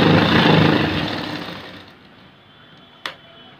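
A sewing machine runs a stitch along the folded edge of blouse fabric, a dense steady whir loud at first then fading out over a few seconds, ending with a single sharp click.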